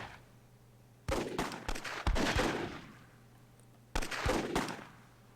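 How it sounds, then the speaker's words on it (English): Gunfire in the video game Myth II Soulblighter, two bursts of rapid crackling shots with a short quiet gap between them, close and loud without talk. "Spy actually hitting HMP with a stray bullet"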